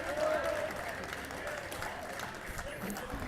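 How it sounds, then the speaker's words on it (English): Scattered applause and cheering from the bench and stands at a baseball game after a double play, a moderate, fairly steady wash of clapping and voices at some distance. "That gets a round of applause from the Roosevelt bench and stands"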